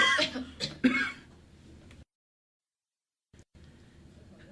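A couple of harsh, close coughs or throat clears burst out at the start, then fade into quiet breathing noise and near silence.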